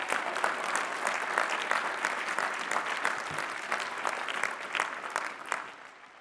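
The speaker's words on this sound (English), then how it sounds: "Y'all can clap it up for that one." Crowd applause at a university commencement ceremony, many hands clapping in a steady, textured patter at moderate distance that eases off at the close.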